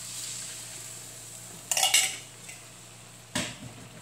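Metal spoon scraping and clinking in a pot as jengkol pieces are stirred into a home-cooked semur stew, two short bursts of clatter over a quiet steady background hiss.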